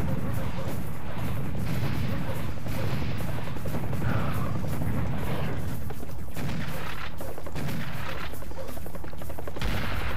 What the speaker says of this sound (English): I am just actually gonna break out the rocket launcher right now.